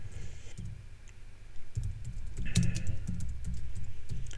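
Someone types code into a computer terminal on a keyboard, giving soft, close, uneven key clicks in quick clusters.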